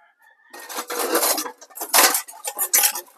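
A spoon scrapes and clatters steadily against a metal pot while cornstarch is mixed for maja blanca, in close irregular strokes with a few louder knocks and no talk.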